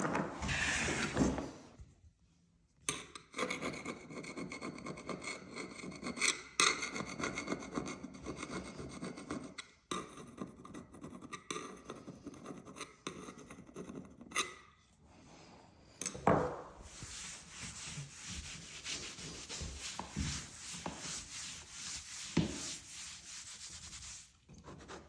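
A fingernail scrapes specks of latex paint off a painted wall in repeated close, quiet rasping scratches with brief pauses between strokes.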